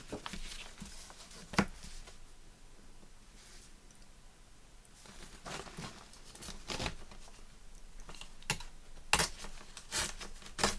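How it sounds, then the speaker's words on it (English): Paper being torn by hand while making a gingerbread man journal cover, a few short sharp ripping bursts separated by quiet rustling and handling noises, close and fairly faint. "So let's just tear that off."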